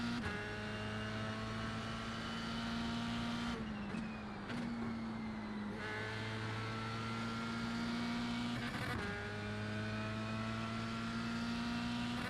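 A video game F3 race car engine at Watkins Glen drones steadily at high pitch, with a couple of brief dips in tone as if shifting gears, continuous and fairly loud.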